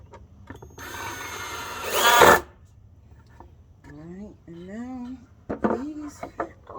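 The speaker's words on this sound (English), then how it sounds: "I'm just gonna go ahead and drill them in and see what happens." A power drill drives screws into wood for a homemade fishing line spooler, a close whirring burst lasting about a second and a half that ends in a sharp rise, followed by a person talking.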